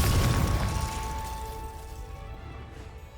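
The Confringo spell explodes in the Hogwarts Legacy video game with a loud, deep boom that rumbles and fades over about three seconds, leaving a lingering ringing tone.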